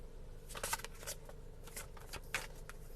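Playing cards being shuffled in quick riffling bursts, close and fairly quiet, with brief pauses between flurries.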